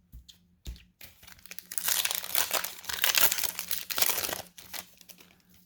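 Magic: The Gathering Time Spiral Remastered booster pack wrappers torn and crinkled open up close, a few sharp initial crackles followed by a sustained burst of crumpling foil that fades into softer rustles.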